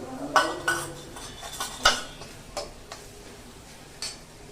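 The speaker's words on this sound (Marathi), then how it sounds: "हळद घालून घेतलेली आहे याच्यामध्ये. मस्त परतून घ्यायचंय." Spoon scraping and clinking against a pan while onions with turmeric are stirred and sautéed for Bombay-style pav bhaji; a handful of separate metallic taps and scrapes, close and moderately loud, over a quiet background.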